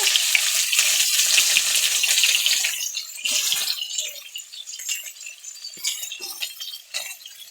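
Chopped onion, green chilli and tomato dropped into hot oil with cumin in a pan, setting off a loud bright sizzle that surges at first, then settles into crackling and spitting with a few clinks, no voices.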